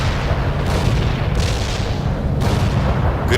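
Heavy artillery barrage in the PC strategy game World in Conflict, Soviet assault at a road junction: a dense, continuous rumble of booming explosions with several sharper blasts bursting through, loud and unbroken for the whole stretch.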